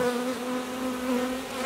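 A honey bee swarm being caught under a tarp, giving off a dense, continuous buzzing drone that stays close and steady with no voices.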